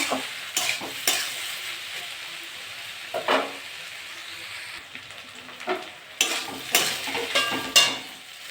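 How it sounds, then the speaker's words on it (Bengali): Onion stalks, radish, potato and beans with turmeric and salt fry in a pan with a steady close sizzle. A utensil scrapes and stirs through them in repeated strokes, and no one talks. "এরকম করে আস্তে আস্তে ভাজা ভাজা করবো।"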